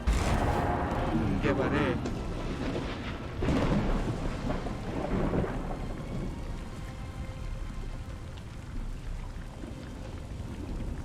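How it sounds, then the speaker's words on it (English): A lightning storm spell in Conan Exiles brings loud thunder cracks and rolling rumbles over steady rain, the strongest bursts early, with a voice talking over the storm. "Harness the primal forces of raw nature by calling forth a lightning storm."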